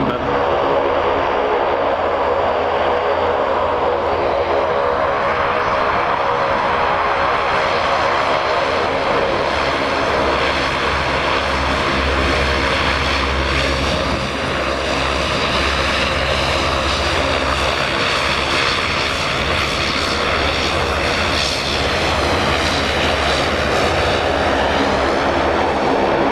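A fixed-wing airplane taxis past on the ground at Aberdeen Dyce Airport, its engine a loud, steady roar that swells gradually as it passes close by.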